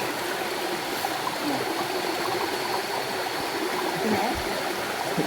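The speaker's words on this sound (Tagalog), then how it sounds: "Nandito na kami sa ilog." A river flowing nearby, a steady broadband rush and gurgle of moving water that holds constant, with faint voices barely under it.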